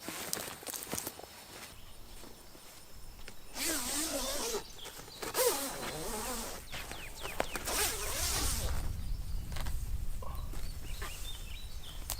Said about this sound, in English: I can zip these 2 blinds together.